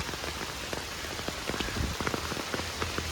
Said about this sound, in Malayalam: ഇതുണ്ടോ നല്ല മഴ, ഇപ്പം ഇച്ചിരി മഴ കുറഞ്ഞിട്ടുണ്ട് കേട്ടോ